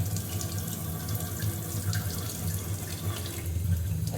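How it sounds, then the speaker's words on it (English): A household tap runs with low water pressure from the pipe, giving a steady, continuous rushing hiss of flowing water, close and alone without any speech. "today we are going to look at low water pressure from this pipe"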